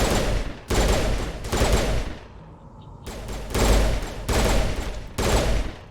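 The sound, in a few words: burst-fire gun shooting in video game Mass Effect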